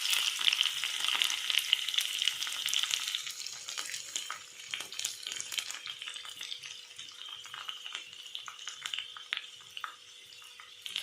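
Garlic drops into hot oil with cumin and mustard seeds, setting off a close, busy sizzle with crackling pops that is loudest at first and settles into a lighter, steady fry.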